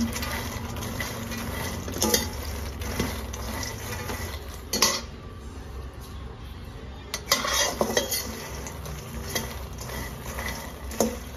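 Food being stirred as it roasts in a frying pan, with clinks and scrapes of a metal utensil against the pan coming in irregular clusters over a faint low background hiss, close and without talk.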